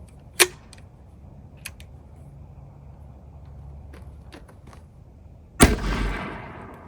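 A grenade launcher fires a flashbang round outdoors: a sharp launch crack near the start, then a few light clicks, and a louder booming burst that rumbles and decays over the final second, with no talking.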